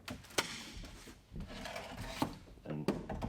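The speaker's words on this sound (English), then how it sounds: "Stuck a crowbar underneath there." Wooden floorboards pried up with a crowbar in a shop loft, giving scattered creaks, scrapes and sharp wooden knocks at close range, with a few louder cracks standing out from the low rustling.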